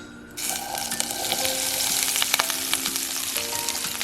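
Butter for a salted-egg shrimp dish hits a hot pan after a short quiet moment and breaks into a continuous crackling sizzle, with small pops and spatters throughout.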